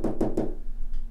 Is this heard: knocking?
yes